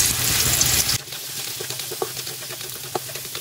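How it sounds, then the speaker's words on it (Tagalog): Loud sizzling of carrots frying in hot oil for the first second, then quieter crackling and light clinks as the frying continues. "Prito na rin po natin itong carrots."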